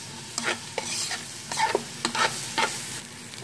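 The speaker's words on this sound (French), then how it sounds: "Maintenant je vais mettre mes oignons. Je vais les laisser devenir translucides d'abord." Onions fry in oil in a pan with a soft, steady sizzle. Repeated scraping stirs come in short rhythmic strokes close by, and no one talks.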